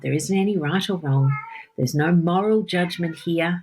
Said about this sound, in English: I don't know if any of you can hear my cat in the background, but she's just decided to start meowing.